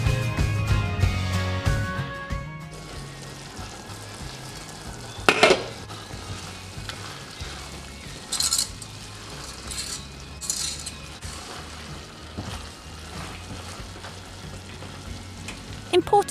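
Chicken and chana dal cooking in a pot for shami kebabs, a low steady simmer with occasional clinks and scrapes of a spoon stirring, close and moderately loud, with no talk.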